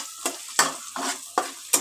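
Onions browning in a pan on a gas stove, with five sharp bursts of sizzling and scraping as they are stirred, each burst fading back to a quiet hiss between strokes.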